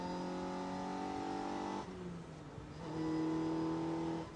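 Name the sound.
S1 Sport 190 car engine driving in fourth gear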